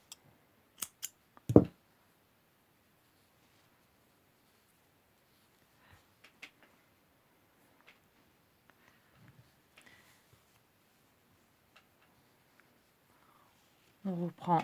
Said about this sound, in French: On va pouvoir couper le fil.